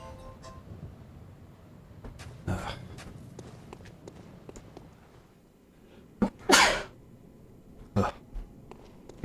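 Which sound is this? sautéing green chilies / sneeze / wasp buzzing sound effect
sneeze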